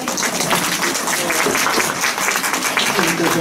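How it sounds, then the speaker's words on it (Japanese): Steady audience applause fills a lecture hall at a public health talk on eye surgery, loud and continuous throughout without pause. "拍手だ。"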